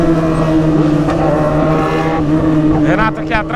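A BMW S1000 motorcycle accelerating through traffic, its engine revving loud and close with rising pitch over a constant droning motor, while voices talk over it.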